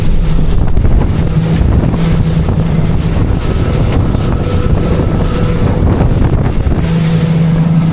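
An Albury 23 motorboat engine drones steadily through rough water under heavy wind buffeting and splashing, loud and continuous throughout.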